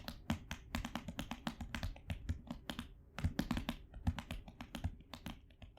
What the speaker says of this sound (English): If you type hard enough, it can create a rather satisfying groove, if you, don't really mind the noise that it makes